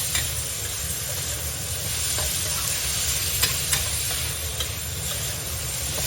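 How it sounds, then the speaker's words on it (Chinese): Shiitake mushrooms and pork slices stir-fried over high heat in a wok, a continuous loud sizzle with scraping stirring strokes and occasional sharp clinks of the spatula. "大火给它炒一炒"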